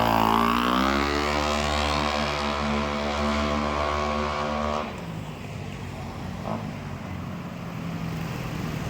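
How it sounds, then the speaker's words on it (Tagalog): A loud Yamaha Nmax motorcycle engine revs and drones close by with a rough, rising, jeep-like tone, then drops to a lower rumbling idle partway through. "Parang tunog jeep."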